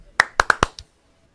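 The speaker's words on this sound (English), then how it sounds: "2 claps for the Saints." Five sharp hand claps in a quick, uneven burst, close and loud, cheering for the Saints football team, then silence.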